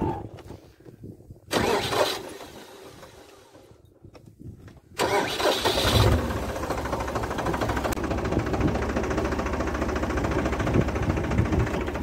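A tractor engine cranks and fires after a couple of quiet attempts, then settles into a loud, steady running idle at close range.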